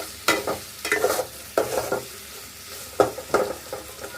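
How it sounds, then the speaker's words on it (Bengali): Ginger-garlic paste with salt fries in a pan, with repeated sharp stirring scrapes over a steady sizzle, close and fairly loud, alone without talk. "আদা রসুন বাটা লবণ দিয়ে আর একটু ভেজে নিলাম দুই তিন মিনিট"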